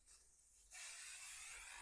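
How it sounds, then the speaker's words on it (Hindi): Homemade furniture polish hisses out of a hand spray bottle in a continuous close, bright spray that starts abruptly after a faint earlier puff, with no talking. "शेक करने के बाद आपने इस तरह स्प्रे करना है।"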